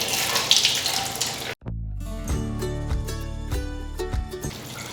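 Cold water is poured into a container during meal prep for a beach day, a steady splashing stream that cuts off abruptly, then turns into a ringing, resonant fill with faint clinks, close by and without speech.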